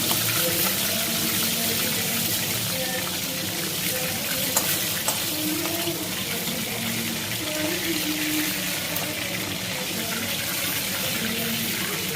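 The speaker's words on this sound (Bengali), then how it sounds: "এইভাবে সব চিকেনগুলো আমি ভেজে নেবো।" Chicken pieces fry steadily in hot oil, a continuous close hiss and crackle running unbroken throughout, with faint background music underneath.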